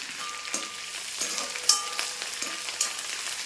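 Green chillies, curry leaves and dried red chillies crackle and sizzle in hot oil, a steady soft frying hiss broken by small sharp pops, fairly close and quiet with no voices.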